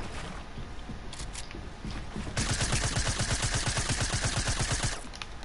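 Rapid automatic gunfire in a Fortnite-style shooter game, a loud sustained burst of evenly spaced shots after softer scattered clatter, cutting off abruptly near the end.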